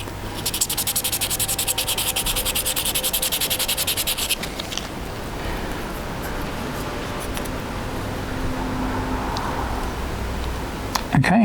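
Sandpaper scuffs the surface of a plastic cosplay armour part in steady back-and-forth strokes, a close, hissing scratch that sounds harsher and brighter at first, then softer and duller.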